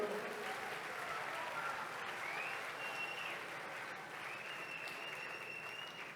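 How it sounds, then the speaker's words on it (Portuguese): Steady applause from a crowd, dense clapping that holds evenly throughout without pause. "Bora aplaudir, por favor."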